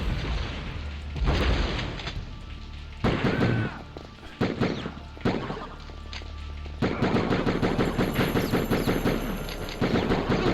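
Video game gunfire from Die Hard Trilogy rattles in repeated bursts and single booming shots, ending in a dense, sustained stretch of rapid automatic fire.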